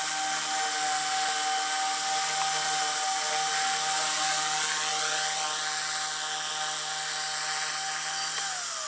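A Blade 130X RC helicopter flies nearby with a steady high-pitched rotor and motor whine, loud and continuous, with pitch shifts as it maneuvers and no talk.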